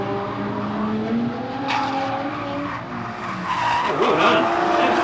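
Drift cars running in a team drift formation, tires skidding and squealing in long rising and falling howls over engine roar, heard from a distance with several cars overlapping.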